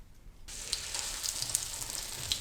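An egg-dipped, breadcrumb-coated tikki hits a hot tawa griddle; after a brief hush a bright, steady sizzle starts abruptly and crackles on evenly, close by.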